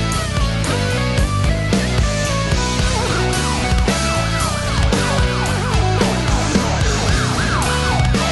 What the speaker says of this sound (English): Interesting about the police sirens.